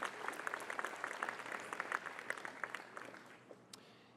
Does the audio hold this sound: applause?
yes